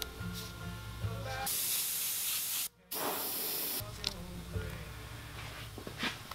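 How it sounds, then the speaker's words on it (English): Spray paint hisses onto fishing lures as scales and a black eye area are added, a near, steady aerosol burst of about two seconds, briefly cut off, then resuming before a quieter workshop background. "then I'm gonna spray some scales, black around the eye"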